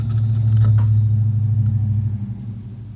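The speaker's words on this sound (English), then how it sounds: "Truck has an exhaust on it." A passing truck with a loud aftermarket exhaust, a deep throaty engine rumble that swells close by and then slowly fades away as it drives off, heard alone without talk.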